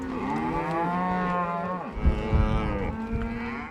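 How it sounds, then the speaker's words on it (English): Many cattle moo together during a real ranch cattle drive in Montana, overlapping drawn-out lowing calls from a herd close by, with some low thumps and rustle beneath. "The ranch really does need to move these cows."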